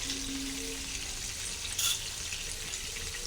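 Cardamom and a few cinnamon pieces in hot oil after prawns were fried, giving a quiet, steady sizzle with a brief brighter burst partway through, with no speech.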